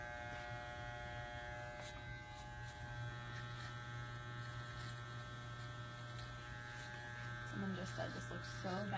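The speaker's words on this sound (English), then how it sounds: "you're doing it with just the edge of the clipper" Electric hair clipper buzzing steadily and close during a women's pixie undercut, its edge tracing the outline, with a constant hum throughout and brief talk near the end.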